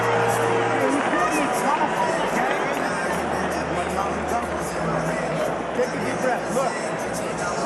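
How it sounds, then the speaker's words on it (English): An arena crowd at a Manny Pacquiao boxing match roars and chatters in a dense, continuous wash of noise, with a commentator's voice running over it. "And you see the crowd is loving the action."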